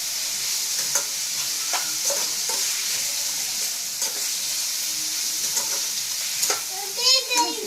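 Pav bhaji masala fries in a pan of oil, giving a steady bright sizzle with occasional stirring clinks and scrapes, close and even throughout, with a brief higher squeal near the end.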